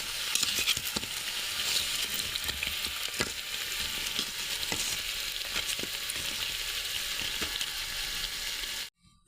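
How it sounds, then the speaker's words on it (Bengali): Mutton snack mixture fries in a little oil in a pan, giving a steady close sizzle with occasional stirring scrapes throughout, ending abruptly near the close. "অল্প তেল দিয়ে এই মিশ্রণটা ভাজা ভাজা করবো"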